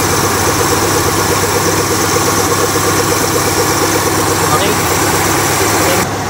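A Mazda 323 16-valve engine idles smoothly near 900 rpm after carburetor tuning, a steady close rumble with a brief spoken word over it.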